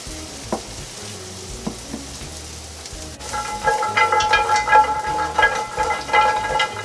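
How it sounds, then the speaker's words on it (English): Carrots cook in butter in a pan with a low sizzle that swells louder and crackles more busily midway, with scattered soft taps of a utensil, close and without talk. "they're just getting in there to get coated in butter and warmed up"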